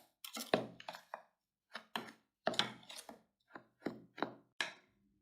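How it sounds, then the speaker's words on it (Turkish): Crushed biscuits and butter are mixed for a cheesecake base, giving a series of separate scraping and knocking strokes in an irregular rhythm, close and quiet with silence between them. "Şimdi içine 100 gram tereyağını ekliyorum. Güzelce her tarafına eşit şekilde gelecek ve homojen bir kıvam alana kadar karıştırıyoruz."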